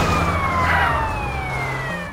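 An ambulance siren wails in GTA San Andreas, a sweeping electronic tone sliding downward over a constant engine hum, fairly loud and without speech.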